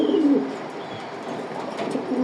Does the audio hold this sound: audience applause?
no